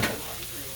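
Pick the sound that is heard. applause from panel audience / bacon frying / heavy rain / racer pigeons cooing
bacon frying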